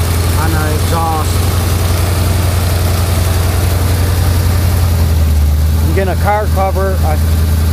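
Car engine idling steadily after a header exhaust leak repair, a close, even low rumble throughout, with someone talking briefly over it.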